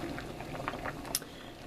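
Potatoes boil in a pot with a constant bubbling, gurgling churn of water, close and even, with one brief sharper pop partway through and no voices.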